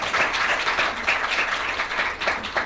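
A conference audience applauds to welcome the CEO of CDMS to the stage, a steady, dense clapping that fills the room throughout with no speech over it.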